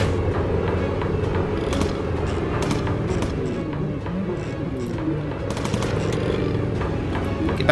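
Rapid, dense machine gun fire rattles from a bomber's gun turrets in the video game Bomber Crew, a loud continuous burst with engine drone underneath.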